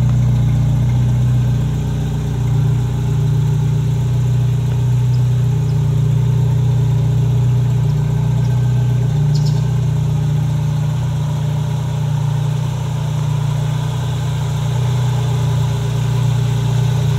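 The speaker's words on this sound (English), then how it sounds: "It's got a little exhaust to it." A customized Jeep Wrangler idles steadily with a low, rumbling exhaust note, a constant deep drone that stays even throughout with no talking.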